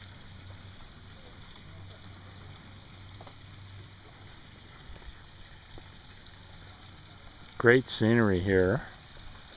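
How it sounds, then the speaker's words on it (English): Water runs steadily in a garden pond waterfall at a Japanese koi pond and zen garden, a soft continuous rush heard throughout, with someone briefly speaking over it near the end. "Love the sound of the water running in the waterfall"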